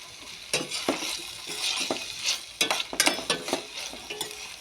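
A spoon stirs food in a frying pan after garlic paste has been added, scraping and clattering in irregular strokes over a steady sizzle, close and fairly loud.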